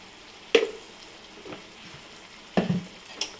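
Prawn curry with garam masala stirred in a pan, village style, a few wet scrapes and clinks of a spoon over a low simmer, close and intermittent, no speech.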